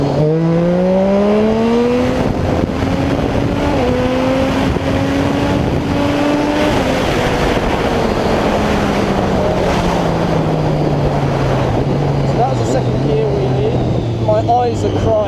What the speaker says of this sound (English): that's the second gear power wheelie because I've gone down one tooth on the front